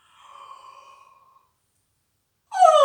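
A long, breathy yawning vocal sound slides downward and fades during a vocal warm-up, followed after a pause by the start of another voiced yawn.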